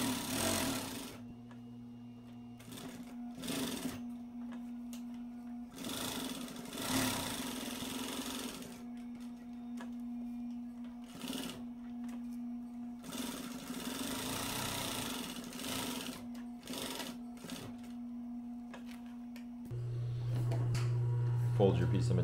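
A sewing machine stitches down the fabric edges of homemade shoulder pads for a chest rig or plate carrier, running in steady whirring bursts of a few seconds with pauses, while a person talks between and over the stitching.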